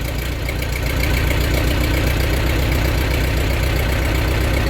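A tractor engine idles after a cold start with the choke engaged, a loud, close, steady low rumble and knocking chug that holds evenly throughout with no talking.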